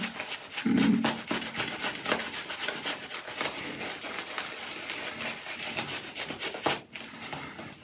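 Repeated scraping strokes of a razor across skin during a wet shave, close and fairly quiet, in a continuous rasping rhythm.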